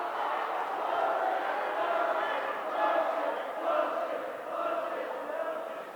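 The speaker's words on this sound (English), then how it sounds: "You can hear the St. Clair student section in the background." A high school student section cheers at a boys basketball game, a dense roar of many voices swelling and fading in waves, broad and steady with no single voice standing out.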